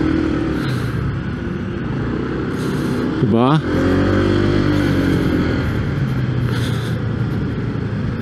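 A Honda PCX160 RoadSync scooter on a test ride hums steadily with its engine and road noise, with a brief louder swell of another passing vehicle midway; a rider speaks a short word.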